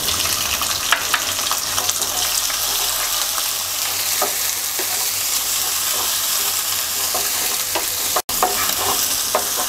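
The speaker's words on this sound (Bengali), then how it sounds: "এবার পেঁয়াজের সাথে চিংড়ি মাছটা দিয়ে কিছুক্ষণ ভেজে নেব" Shrimp frying with onions in a pan makes a loud, continuous close-up sizzle with occasional stirring clicks and one brief dropout near the end.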